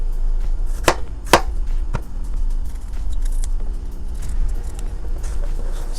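A knife cuts through Liberian garden eggs (bitterballs) on a cutting board, with two sharp chopping strikes close together near the start and a third lighter cut after, over a steady low background hum.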